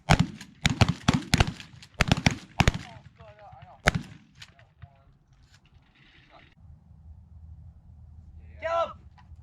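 Shotgun blasts on a pigeon hunt: a rapid cluster of loud, sharp reports in the first four seconds, then quieter outdoor ambience with a faint brief sound near the end.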